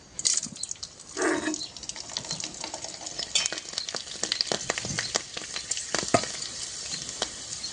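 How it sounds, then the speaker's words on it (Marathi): Sago pearls (sabudana) fry in hot oil with a steady close sizzle, broken by bursts of crackling and popping as they puff up; no one speaks. "तर आता आपण तळून बघूया तेल गरम झालं काय बघूया"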